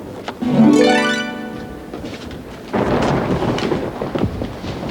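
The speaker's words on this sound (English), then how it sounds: "Much more of this rain, we could have trouble." Rain and thunder during a storm, with a loud tonal crack and rumble near the start, then a steady wash of noise like heavy rain persisting to the end.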